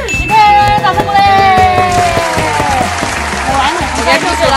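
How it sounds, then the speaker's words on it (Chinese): A studio audience claps in a lively burst during a radio-station game show. The applause runs throughout under voices and bright musical tones. "掌声鼓励"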